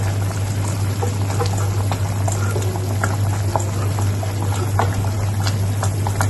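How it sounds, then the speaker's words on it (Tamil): Dry fish gravy (karuvadu kuzhambu) with tamarind boiling in a pot, a steady dense bubbling and popping that runs the whole time, fairly loud and close, with a constant low hum underneath and no talking. "இப்போ குழம்பு நல்லா கொதி வந்துருச்சு"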